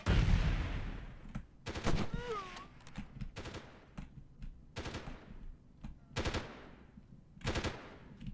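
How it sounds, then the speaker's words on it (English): Gunfire from unseen shooters in Delta Force (1998) comes as repeated short automatic bursts separated by pauses, fairly distant and sharp, with a few single shots between them. "where are the shots even coming from?"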